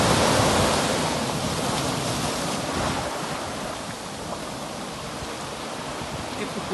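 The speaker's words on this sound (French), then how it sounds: "Écoutez les vagues, le bruit de la mer." Sea waves wash onto the beach at Ouakam as a continuous broad roar with wind buffeting the microphone, loud and close, easing slightly as it goes on.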